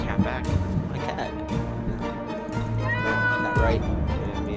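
A cartoonish cat meows several times in the survival game 60 Seconds!, with drawn-out rising mewls over a game soundtrack; a voice talks over part of it.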